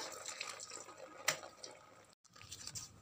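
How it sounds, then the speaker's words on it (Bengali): Water splashing and dripping as a boy bathes at home, steady and moderately close, with a brief drop-out partway through and no talking. "দেখো আমার ছেলে স্নান করছে"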